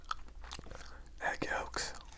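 Gum chewed close to the microphone in a whispery setting, wet smacking clicks scattered across a couple of seconds with soft breathy whisper-like noise between them.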